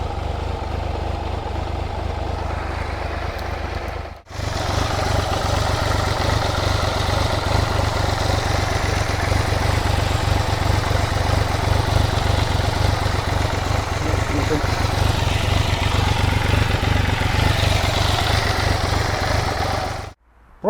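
An engine idles steadily while warming up after a crank position sensor replacement. A continuous, even mid-pitched hum is heard close by, with a brief drop near the start, and no voices.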